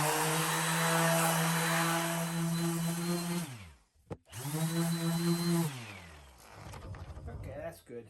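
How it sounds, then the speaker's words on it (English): A loud, steady power sander whines on wooden shelves, cutting out briefly and starting again, then winding down near the end. "I'm going to give them a quick sanding."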